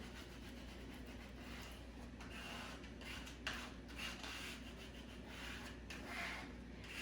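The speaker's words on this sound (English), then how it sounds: "So now that I've got my stencil on there, I'm gonna scrape it again." A tool scraping firmly over a stencil on a wooden porch sign, a continuous close rasping rub that holds steady for several seconds with small bumps in intensity and no talking.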